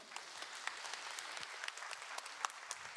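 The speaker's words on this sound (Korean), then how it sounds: "큰 박수로 모시겠습니다." Church congregation at a young adults' worship service applauding to welcome the pastor, a soft, continuous patter of many hands with a few louder individual claps standing out, fairly quiet and distant.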